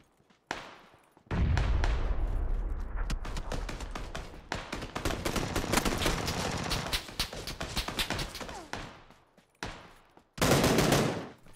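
Sustained automatic gunfire in PUBG on Xbox during a shrinking final circle, with loud, close rapid bursts running for several seconds, a short pause, then another heavy burst near the end.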